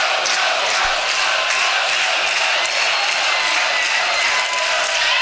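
A dense, loud wrestling crowd at a lucha libre match roars steadily in a large venue, a sustained wash of cheering and noise with no breaks.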